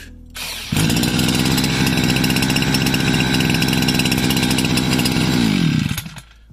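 A small engine revs up sharply and holds a loud, steady high-pitched whine for several seconds, then cuts off—a string trimmer running close by.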